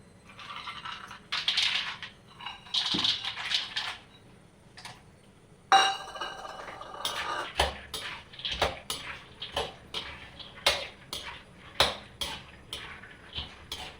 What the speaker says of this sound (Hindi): इसमें डाल लेती हूँ काजू, घी गर्म हो गया हमारा